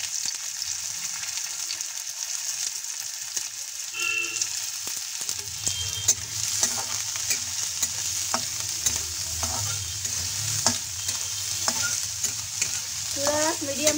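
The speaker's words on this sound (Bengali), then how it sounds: "চুলার আঁচ মিডিয়াম টু হাই রেখে আমি পেঁয়াজগুলো বেরেস্তা করে নেব।" Sliced onions fry in a little oil in a karahi over medium-high heat for beresta, sizzling steadily up close. Occasional scrapes and clinks of stirring come in, and the sizzle grows fuller midway.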